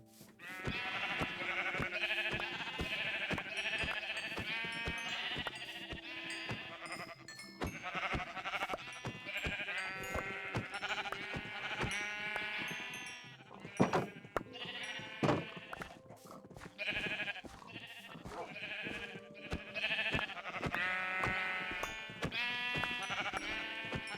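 Sheep in Minecraft Bedrock Edition bleat again and again in a loud, steady run of short cries, with overlapping calls over about twenty seconds and only brief gaps.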